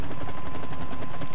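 Rapid automatic gunfire from the co-op video game It Takes Two, a dense string of loud shots with steady rhythm over explosive game noise, no voices.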